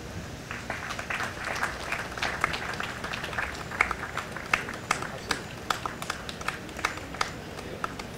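Steady applause from a gathered audience at an Independence Day celebration held at an embassy residence, many hands clapping continuously at moderate distance, with some brighter individual claps standing out.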